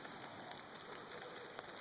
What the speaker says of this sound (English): rain cut down a little bit